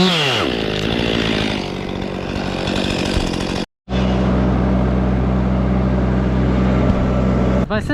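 A chainsaw cuts high in a tree during a tree removal, its loud, close engine droning steadily through a rev-up and cut, briefly stopping before roaring again.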